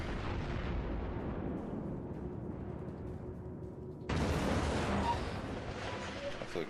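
Battleship guns and shell explosions rumble in the naval video game World of Warships, a dense, continuous roar with a sharp louder blast partway through, heavy booming throughout.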